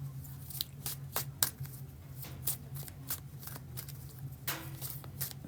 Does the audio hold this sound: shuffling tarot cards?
yes